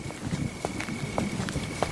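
Footsteps walk through a rainy forest as a story sound effect, a run of soft, evenly paced thuds close by over a hiss of rain and wind.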